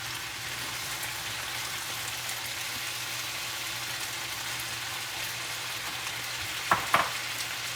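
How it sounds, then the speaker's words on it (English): Onions frying in oil in a pan for a country breakfast, a constant crackling sizzle at moderate level with a couple of sharp utensil knocks near the end and no speech. "I'm going to go ahead and put in some of these onions."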